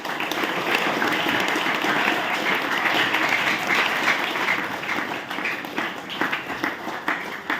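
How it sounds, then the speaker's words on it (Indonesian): A hall audience at an Islamic boarding school orientation event bursts into sustained, dense applause, loud and even throughout, tapering slightly near the end. "Beri tepuk tangan dulu."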